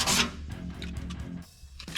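A car panel on a Ford XW project is scuffed by hand with 400-grit sandpaper, giving close, soft rubbing strokes in an uneven rhythm, with a louder rasp at the start and another near the end.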